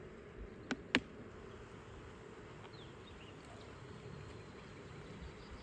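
Honey bees buzzing in a freshly opened package on a farm, a steady faint drone throughout with two brief sharp knocks near the start.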